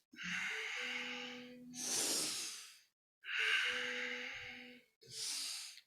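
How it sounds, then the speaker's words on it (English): Deep nasal breathing during a kundalini yoga navel kriya: four long, audible breaths alternating slow inhales and forceful exhales, close and alone with no talk. "all breathing is through the nose."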